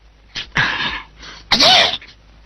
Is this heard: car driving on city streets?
no